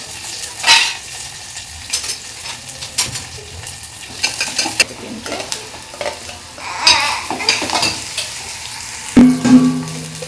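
Cumin seeds and onion frying in hot oil in a home kitchen pan, a soft sizzle punctuated by the scrape and clink of a spoon stirring against the pot, with a sharper metallic knock near the end.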